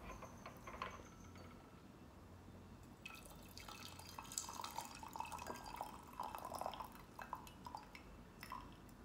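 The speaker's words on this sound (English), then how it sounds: "making sure I get all of the last liquid out, so we can enjoy every drop of the tea" Last drops of Spring Oolong tea draining from a gaiwan, soft irregular drips and faint trickles over quiet background, with light clinks of porcelain now and then.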